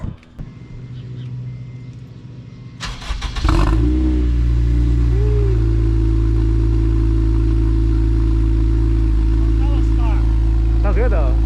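An Acura RSX idles through an aftermarket exhaust, a loud steady low rumble that kicks in around 3.5 seconds after quieter background noise and holds until the end, with faint talk behind it.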